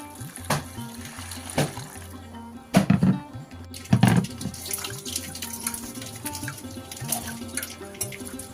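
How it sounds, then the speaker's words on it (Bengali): Flattened rice (chira) is washed with water, close sloshing and splashing that comes in irregular surges, with drips and a running tap between the louder swirls. "তো চিরাটা আগে ধুয়ে নিই"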